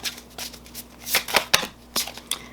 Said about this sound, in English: I'm going to keep shuffling